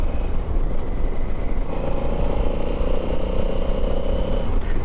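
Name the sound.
Honda Africa Twin parallel twin engine and exhaust riding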